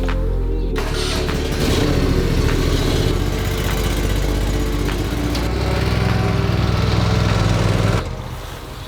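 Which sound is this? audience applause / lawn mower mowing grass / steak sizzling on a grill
lawn mower mowing grass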